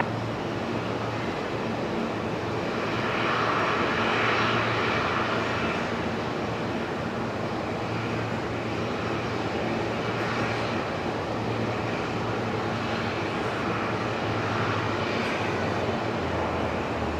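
A Saab turboprop aircraft at Brisbane Airport at night, a steady droning engine roar heard from a distance that swells slightly and fades, with no voices.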